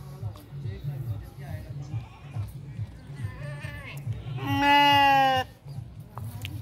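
A sheep bleats loudly and close by at a busy livestock goat market in Ajmer, one long wavering bleat near the end, with fainter bleats and a steady crowd murmur throughout.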